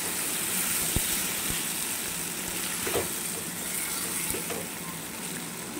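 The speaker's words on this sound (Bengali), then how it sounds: "এবারে দেখো খুব ভালোভাবে নেড়ে চেড়ে কষাচ্ছি।" Marinated ghugni with cumin, dry chilli and whole garam masala stir-frying in a pan, a continuous close hiss of sizzling oil broken by a few soft knocks and scrapes of the spatula.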